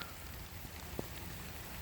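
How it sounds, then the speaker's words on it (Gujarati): Faint, steady rain patters on surfaces at an outdoor masonry work site, forming a soft, even hiss with one small distinct drip or tap and no voices. "વરસાદ રહેવાનું નામ લેતો નથી"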